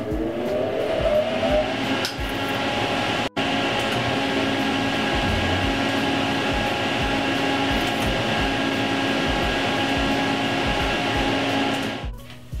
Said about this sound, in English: So let's turn the fan on.